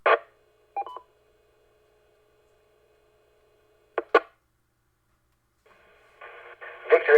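DTMF tones from radio keypad button presses sound as short separate beeps: a couple at the start, a pair near the middle after a long silence, then a rapid cluster at the end.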